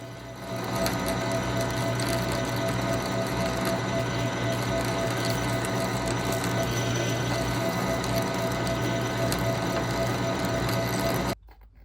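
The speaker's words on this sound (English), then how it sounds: "now I can switch over to a finish size of 5/8 inch drill" A 5/8 inch drill bit bores into metal on a lathe, a steady loud mechanical whir with a constant hum and a gritty cutting chatter, running without talk before cutting off abruptly at the end.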